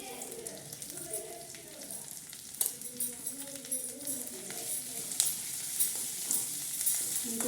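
A frying mixture is stirred in a pan as turmeric goes in, making a soft, continuous sizzle with irregular spoon clicks and scrapes. A voice is faintly heard at times.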